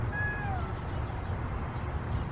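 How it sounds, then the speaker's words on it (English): A feral cat gives a single short, falling meow outdoors over a low, steady ambient hum; no distinct hiss stands out. "he meows and then he hisses"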